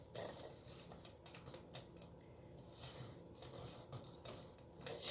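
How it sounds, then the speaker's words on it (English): Chocolate filling for a chocolate orange cheesecake is stirred in a bowl, giving soft, uneven scraping and clinking of utensil against bowl in irregular bursts, fairly quiet and close. "Stirring it up really good"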